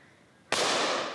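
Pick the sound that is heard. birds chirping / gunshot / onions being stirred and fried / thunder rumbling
gunshot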